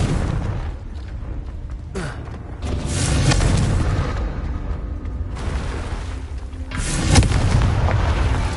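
A Confringo fire spell from Hogwarts Legacy lands as a loud booming blast, then low rumbling debris. A second strong burst hits near the end over a dense, noisy game mix with no talk.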